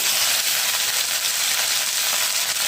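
Okra fries in a small amount of oil with garlic masala, giving a loud, steady, close sizzle that carries on without break.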